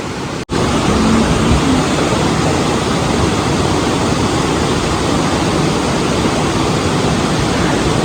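A beautiful waterfall in Tembavali village in Konkan pours in a steady, loud, dense roar of falling water that stays constant throughout after a brief dropout near the start.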